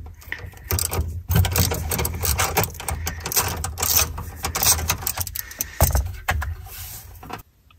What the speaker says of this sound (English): I'm going to remove the negative cable first using a 10mm socket